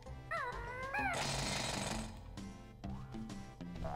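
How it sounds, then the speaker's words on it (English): Kazooie's spinning head-drill attack in the Banjo-Tooie video game, a loud continuous grinding buzz, preceded by rising chirpy squawks, with further game sound effects afterward. "Watch Kazooie spin and drill with her head."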